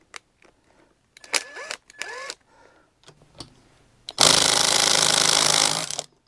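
Hyper Tough brushed 1/4-inch impact driver loosening a bolt: a few sharp clicks and handling noises, then a loud, close, continuous rattling hammer burst lasting about two seconds before stopping.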